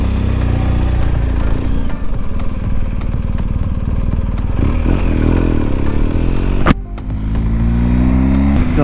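A BMW R1250GS motorcycle engine idles loud and close on its center stand in chilly weather, with a steady low throb, a couple of rev changes and a brief sharp clack near the end.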